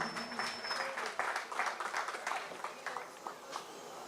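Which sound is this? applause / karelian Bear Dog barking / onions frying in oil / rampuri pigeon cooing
applause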